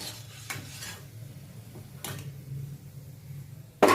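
Crispy fried bitter gourd pieces scooped from a pan of oil, a few soft scrapes and clinks of a utensil over a low sizzle, ending in a sharp loud metallic knock.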